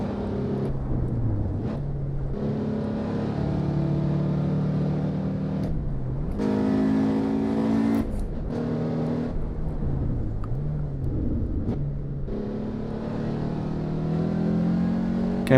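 A Mercedes race car in the Assetto Corsa Evo racing game revs hard and continuously, its engine note rising and falling through shifts and braking across the whole stretch, loud and upfront with no talking.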